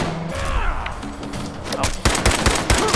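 Gunfire in the video game Fallout 4, with rapid bursts of shots cracking out in the second half, preceded by a brief voice and quieter game sounds.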